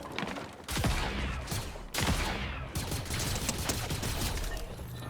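Gunfire in a flight combat video game about a top gun pilot, dense rattling bursts of shots with two sharp onsets, loud and continuous over a steady rumble.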